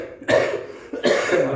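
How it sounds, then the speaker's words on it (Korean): Two sharp coughs from a preacher during a church sermon, close and loud, separated by a short pause. "기침이 계속 나오네요"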